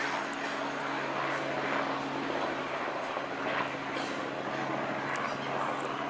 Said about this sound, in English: The helicopters are flying around.